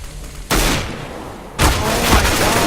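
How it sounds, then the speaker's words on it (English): A flashbang grenade going off in Counter-Strike on the map de_train, heard as two sharp loud bursts about a second apart, each followed by a ringing, noisy wash. "I'm throwing a flashbang"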